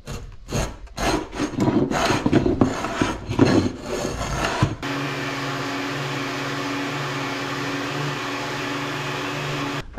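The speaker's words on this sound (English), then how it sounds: "I can trim down the splines to something manageable for sanding" Rough rasping and scraping of a saw trimming cured epoxy-glued wooden splines in uneven strokes, close by, then a steady droning hum of a machine running alone.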